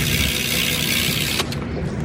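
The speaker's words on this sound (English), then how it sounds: "Shadow Raptor cassette. That thing's good. I like the noise of it." A Shadow Raptor cassette on a 2017 WTP Battleship BMX bike ticks as a fast, steady ratchet buzz of close, dense clicks, briefly interrupted by a sharp knock near the end.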